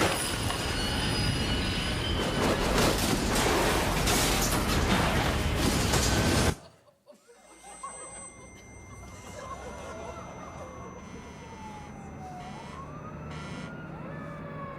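A freight engine rolls along rails with loud, dense rumbling and squealing wheels that cut off abruptly partway through, leaving a quieter stretch with faint whining tones and some voice.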